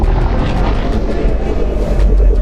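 A loud, low dinosaur roar from Roblox Dinosaur Simulator's normal version fills the short stretch, a dense rumbling bellow with heavy bass that holds steady at full strength throughout.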